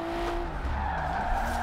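Nissan R32 drift build with a full wide body, sliding in Forza Horizon 4, its tyres squealing in long wavering tones over a loud, steady engine roar, with no talking.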